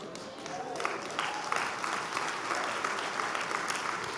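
Audience applause from a crowd at a business speech event, a steady wash of clapping held at moderate distance for several seconds with no talk over it.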